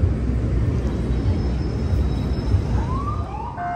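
Police car siren on a New York street, a rising wail that swells in near the end over a steady roar of city traffic.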